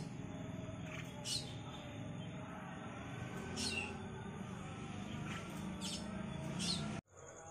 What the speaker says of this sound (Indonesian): Itu yang bunyi itu jalak kita yang sudah sangat tua